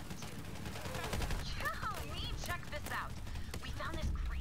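Rapid gunfire from the looter-shooter game Borderlands 3, dense bursts of shots layered over game effects and a voice talking and exclaiming throughout.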